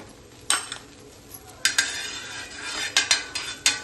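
Butter goes into a pan of frying beet pav bhaji, with sharp metallic clinks and scrapes of a spatula against the pan over a low sizzle, several distinct strikes in an irregular rhythm, close and fairly loud.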